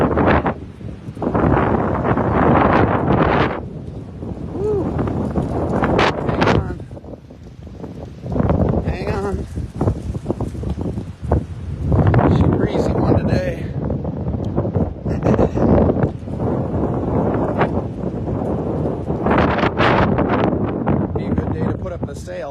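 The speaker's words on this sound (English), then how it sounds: "the wind that's starting to pick up" Steady wind gusts buffet the microphone outdoors while sailing a boat, a loud, continuous rushing roar that swells and dips throughout, with a person talking over it.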